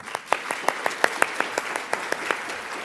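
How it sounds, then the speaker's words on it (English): Sparse audience applause at a healthcare nursing keynote, a dozen or so distinct, evenly spaced claps ringing out in a moderately quiet hall with no talk over them. "Round of applause for them."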